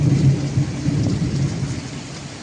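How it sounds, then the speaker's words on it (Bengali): Heavy night rain roars steadily while a deep rumble of thunder rolls underneath, strongest at the start, before the sound cuts off abruptly. "রাত্রিবেলা বাইরে বৃষ্টির ঘন ঘটা"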